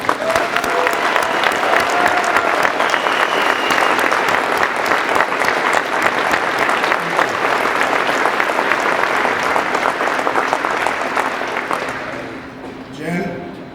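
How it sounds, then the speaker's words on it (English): A retirement crowd breaks into a standing ovation, loud and dense clapping that holds steady for about twelve seconds before fading out near the end. "I think we all owe her a standing ovation"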